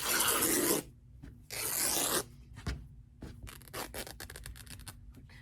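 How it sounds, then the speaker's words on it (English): Scissors cut down the center of batik rayon fabric: two long, rasping strokes followed by a run of shorter, quicker snips and rustles, close up with no talking. "I'm going to cut down the center"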